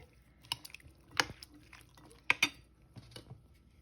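Utensils scrape and clink against a bowl while shrimp ceviche is stirred with onion and cucumber, giving a few sharp, close taps and wet squishes with short pauses between them.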